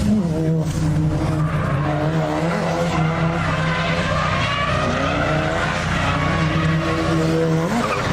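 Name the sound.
car drifting with tires squealing on street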